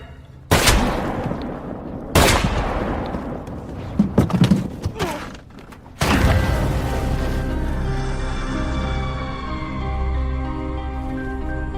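Blank rounds fired in a movie scene: sharp, loud gunshot bursts at intervals, a few quick cracks in the middle, then a final blast that rings on into a sustained, tonal swell of dramatic sound.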